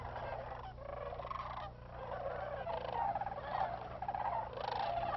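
Cranes and geese at a New Mexico wildlife refuge at sunset, a dense flock chorus of overlapping honks and calls over a steady low rumble, continuous and moderately distant.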